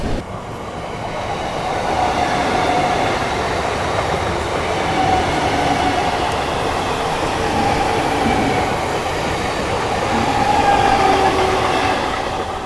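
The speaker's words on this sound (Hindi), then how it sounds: "ये गई दोस्तों आप लोगों की सरायघाट एक्सप्रेस।" The Saraighat Express train moves past on an Indian line, a continuous rumbling roar of wheels on track with faint squeals, steady and fairly loud with no pauses.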